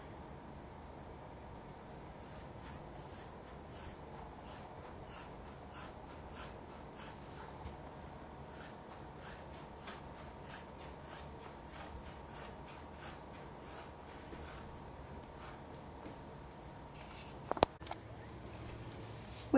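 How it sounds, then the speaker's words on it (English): A leather knife sheath being cut out, with faint, steady rhythmic scratching strokes over a low background hum, quiet throughout, and a brief louder knock near the end. "Now it's time to cut our knife sheath out."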